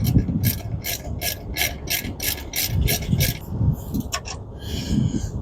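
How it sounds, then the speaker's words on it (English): A ratchet with a large 1/2-inch-drive socket tightens bolts on truck air bag suspension, producing a fast run of sharp close clicks, then a brief pause and a few more uneven strokes. "let me grab the ratchet"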